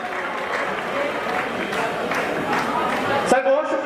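A crowd at a school annual function applauds steadily, a dense wash of clapping that carries on for a few seconds before a voice cuts in at the end.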